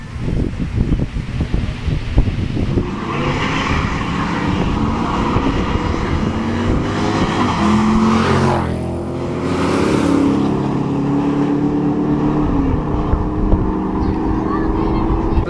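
Loud drag racing cars roar at an event in Mitla, engines revving and rising in pitch as they pass close by, with voices talking over the din.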